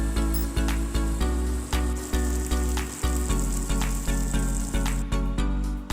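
Baby prawns (karandi) sizzle and crackle steadily in a hot frying pan, a dense close-up frying hiss with repeated soft pops and spatters, no talking.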